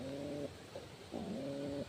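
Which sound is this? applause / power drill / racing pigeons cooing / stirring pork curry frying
racing pigeons cooing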